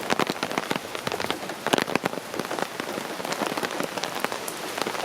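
Heavy rain pounds down in dense, continuous bursts with gusty wind during Hurricane Ian in Florida, loud and close with no voices.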